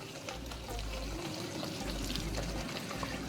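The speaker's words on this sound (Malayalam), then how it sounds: "ഫൈനൽ ഇൻഗ്രീഡിയൻറ്റ് 1 കപ്പ് വിനാഗിരി എടുത്തിട്ടുണ്ട്. ഒഴിച്ചു കൊടുക്കാം" One cup of vinegar is poured into a ginger curry, a soft liquid trickle and splash heard close up over a low hum, brief and fairly quiet.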